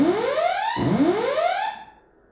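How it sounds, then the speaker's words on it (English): Buzzy sawtooth oscillator tone sweeping upward in frequency, played twice in a row, each rise from low to high, bright and harmonically rich, then fading out. "Goes into the oscillator that is set to a sawtooth,"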